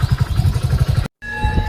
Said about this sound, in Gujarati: સંજયભાઈ આવી ગયા છે બાઇક લઈને